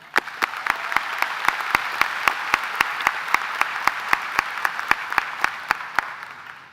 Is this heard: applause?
yes